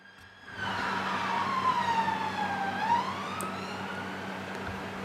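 Emergency vehicle siren wailing in a rising and falling sweep, fairly close and steady over a low background hum, with no talk.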